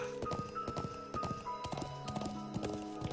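Horse hooves in the video game Trails of Cold Steel II, a quick rhythmic clip-clop gallop over a background music score, with an occasional whinny, steady and mid-level throughout.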